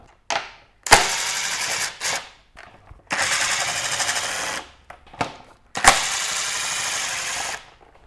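Bolts are worked off the rear fender of a KTM RC390 motorcycle with a 10mm tool, heard as sharp clicks and bursts of rapid ratcheting that start and stop at close range.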